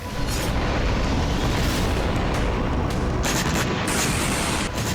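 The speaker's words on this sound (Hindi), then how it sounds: "वीरान शहरों में धमाके हो रहे हैं।" Dense, continuous rumbling blasts of explosions in deserted cities in Ukraine fill the whole stretch, loud and heavy, booming one after another with no pause and no voices.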